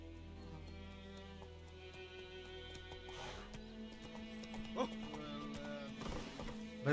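Roach, a horse in The Witcher 3 video game, trots along with steady, close clip-clopping hooves and a brief whinny, set over a continuous bed of game music.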